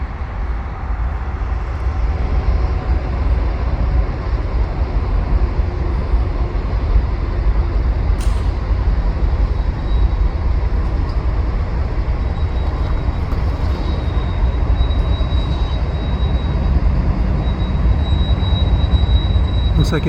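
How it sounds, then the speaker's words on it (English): A Via Rail passenger train from Toronto rumbles past at a level crossing, a steady loud roar of wheels and engine with faint high squeals and clanks throughout. "via rail train from Toronto."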